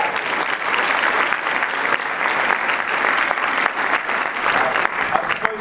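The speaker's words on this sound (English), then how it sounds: "Give yourselves a round of applause" An audience at a theatre performance in Aotearoa New Zealand applauds steadily, a dense, even wash of many hands clapping at moderate loudness throughout, with no voices standing out.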